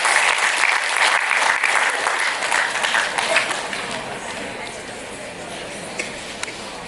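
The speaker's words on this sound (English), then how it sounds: "I request all the students to invite him with a great applause" Students give a guest speaker a dense round of applause, loud and continuous at first, then gradually thinning and fading.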